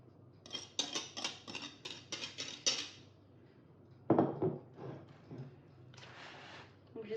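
Quiche filling with minced meat being mixed in a bowl: a quick run of rhythmic scraping, clinking strokes near the mic, then a pause, a sharper clatter and a few softer knocks.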